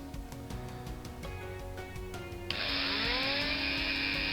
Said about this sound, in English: I'm drilling the posts.